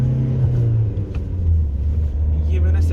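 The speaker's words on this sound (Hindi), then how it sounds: "पहले गियर में मैंने गाड़ी उठा दी है कि मैं पूरा रेफ करूँगा" A diesel Hyundai Creta is pushed hard in first gear, its engine droning low and steady, then revving higher and holding, with a voice talking over the rumble.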